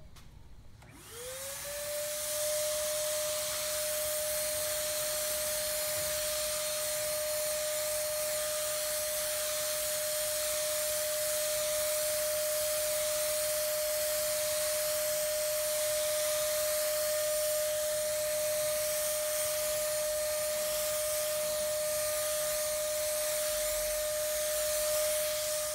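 Spray gun applying a heavy wet coat of carbon dip paint, a steady loud hiss with a constant whine running almost unbroken for over twenty seconds, with no talking.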